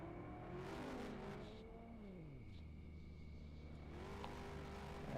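Race cars on the final lap of a Superstar Heat A race roar past, engines rising and falling in pitch as they pass, with a deep rumble and a quieter stretch midway.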